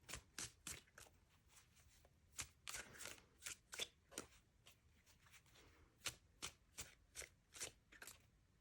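Tarot cards are shuffled by hand in short bursts of soft, riffling slaps and taps, close and fairly quiet, with brief irregular pauses between them and no voices.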